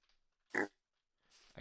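A pig in a survival video game gives one short, clear oink in a quiet space, followed a moment later by a softer grunt.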